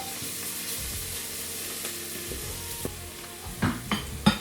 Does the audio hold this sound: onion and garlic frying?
yes